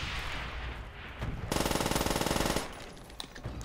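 A PPSh submachine gun in the video game Call of Duty: World at War fires one loud, rapid, sustained burst of about a second, with quieter game ambience before and after.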